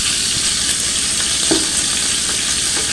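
Fish sputters and splatters loudly in hot oil, a dense continuous sizzle with scattered pops and crackles, close by and with no voices.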